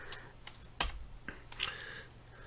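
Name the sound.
typing HTML code on a computer keyboard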